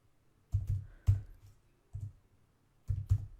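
Keys on a computer keyboard typed while entering code, heard as a few separate bursts of quick clicks with short pauses between them, close and fairly quiet with no talking.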